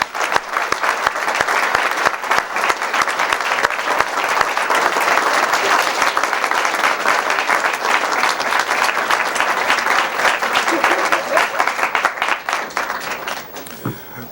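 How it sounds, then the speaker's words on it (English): Loud, sustained applause from a large audience at a Minister Farrakhan speech at the Executive House Hotel in Chicago, steady clapping for over ten seconds before it starts to thin out at the end. "let's give the Honorable Louis Farrakhan another round of applause for greater."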